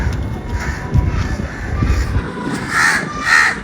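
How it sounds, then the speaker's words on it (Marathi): A crow caws outdoors near a coastal home being cleaned before the monsoon, giving two clear harsh calls toward the end over rustling and shuffling nearby. "हा बघा, कावळा बघा,"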